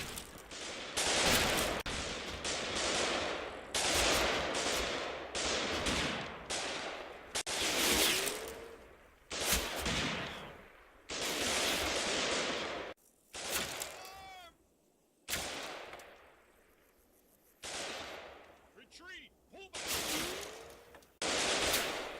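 Rifle shots and machine gun bursts from a World War II battle in the Combat Mission Final Blitzkrieg strategy game, sharp loud volleys in rapid irregular clusters, with short lulls and ricochet-like whines between them, no voices.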